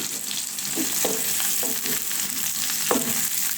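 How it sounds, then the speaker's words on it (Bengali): Chopped onions dropped into hot oil in a wok sizzle steadily and loudly. A few scraping stirs punctuate the frying, with no voices. "এখন তেলের মধ্যে আমি পেঁয়াজ কুচিগুলো ছেড়ে দিচ্ছি।"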